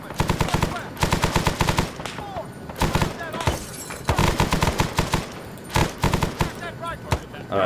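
Rapid automatic gunfire in ArmA 3, loud bursts and sustained volleys with short gaps between them, a voice occasionally speaking over the shooting.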